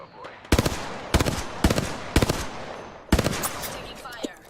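Apex Legends video game gunfire: five sharp automatic bursts spaced about half a second apart, loud and near, standing out against a quiet background.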